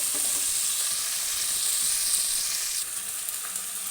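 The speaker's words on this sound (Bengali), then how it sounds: "এবার এগুলোকে একটু হালকা ভেজে নেব।" Chopped vegetables and spring onion frying lightly in a pan, giving a steady close hiss of sizzling oil that runs evenly throughout, with no voices.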